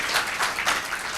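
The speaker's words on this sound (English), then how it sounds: "Can we give a very, very huge round of applause to Jaime and Pascaline over there?" A research symposium audience claps in a brief, fairly loud burst of mixed hand claps.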